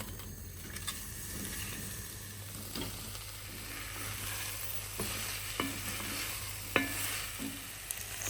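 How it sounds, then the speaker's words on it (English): Onions and chorizo sizzle steadily in a hot pan while a utensil stirs and scrapes, with occasional sharp clinks. "So I'm going to start off by frying these onions"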